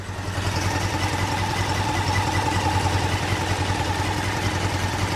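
A Honda CB600 Hornet motorcycle engine idles steadily with a blowing exhaust, producing a continuous, even, loud rumble with a hissing, puffing leak throughout, close up and with no talking.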